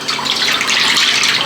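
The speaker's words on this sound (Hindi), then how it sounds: "इसके लिए हम डालेंगे 1 लीटर पानी" One litre of water is poured into a cooking pot holding goat trotters for Lahori mutton paya, a steady close gushing splash that runs without a break.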